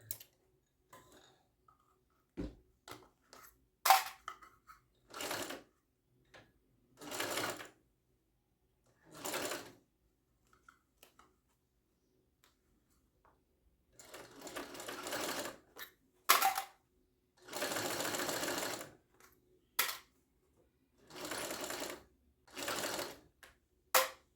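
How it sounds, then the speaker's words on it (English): A sewing machine stitches binding onto a small convertible backpack in repeated short bursts, each run lasting a second or two, separated by pauses and faint handling clicks; close and moderately loud. "I'm sewing 1/8 of an inch from the inside seam because I want my binding to connect on this side."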